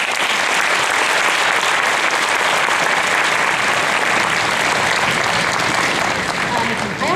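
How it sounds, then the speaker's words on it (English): An audience at a third-grade orchestra concert applauds steadily for several seconds, a dense, even wash of clapping with no pauses. "I'd like to give them another round of applause."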